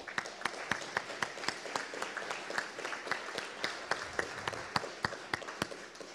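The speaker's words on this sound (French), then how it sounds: "Vous pouvez applaudir." A general assembly audience of a credit union claps in a scattered, sparse rhythm, individual hand claps standing out distinctly over a low murmur, steady for several seconds.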